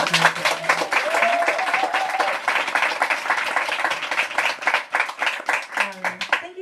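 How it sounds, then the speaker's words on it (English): An audience at a comics talk applauds, with steady dense clapping throughout and a voice speaking briefly over it near the start and end. "I'm gonna ask you to clap once more."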